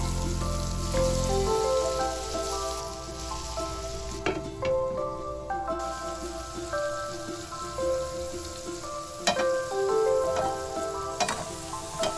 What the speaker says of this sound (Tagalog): Then we're gonna add our shrimps, and then we're gonna be cooking it for 3 to 5 minutes